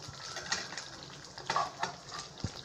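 Paneer being stirred into a thick gravy in a pan, with soft scraping and wet sizzling in irregular strokes, close but fairly quiet.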